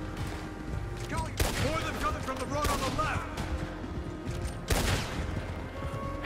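Bursts of gunfire in Red Dead Redemption 2, with two sharp volleys of shots standing out over a steady bed of game noise, music and scattered effects.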